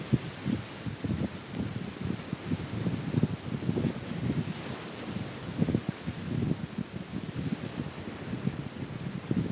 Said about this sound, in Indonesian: Suasana Pantai Salopeng